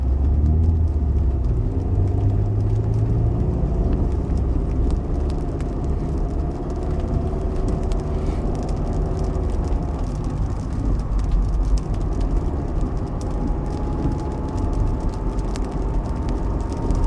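A 2022 Perodua Myvi 1.5 AV with CVT pulls away from a traffic light, its engine droning low and steady from inside the cabin as a tone slowly rises with speed, amid constant road rumble.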